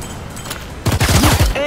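Rapid gunfire bursts out in the video game ShowGunners, Security Breach DLC: a loud fusillade of overlapping shots rattles briefly after a quieter stretch, with a game voice sounding over it.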